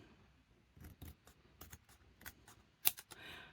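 A paper tag being cut off with a cutter or scissors in a papercraft setting, heard as a few short, quiet snips and clicks spread out over a few seconds.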